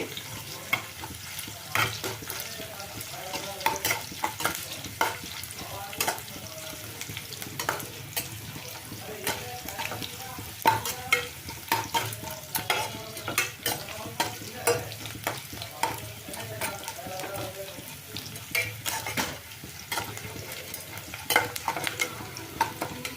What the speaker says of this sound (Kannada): ಈಗ ಇದು ಈರುಳ್ಳಿ ಫ್ರೈ ಆಗಿದೆ